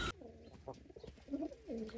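Racing pigeons gather on a rooftop at a dish of bathing water, giving soft, low, throaty coos in short bursts, quiet and close, with a faint voice in the background.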